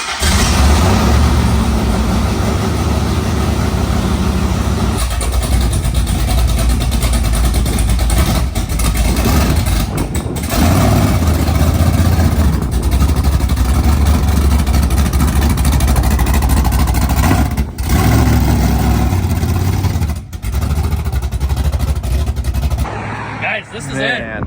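Cadillac Deville fitted with 35-inch mud tires revving its engine, a loud continuous drone that swells and dips with the throttle over about 24 seconds, with people talking over it.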